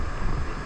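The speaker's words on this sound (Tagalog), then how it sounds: "Lakas ng hangin dito." Strong wind buffets the microphone with a steady low roar, loud and close, mixed with faint water sounds.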